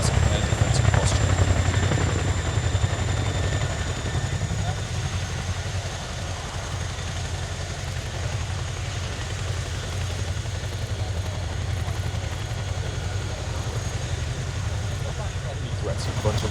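An RAF Chinook HC.5 twin-rotor helicopter flies a display at RIAT 2024, its deep rotor thud and turbine whine steady and loud while an announcer talks over the noise.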